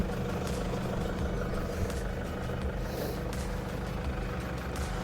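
A Toyota Hilux engine idling on a Lake District lane, a low steady rumble heard from close by at moderate level with no other distinct sounds.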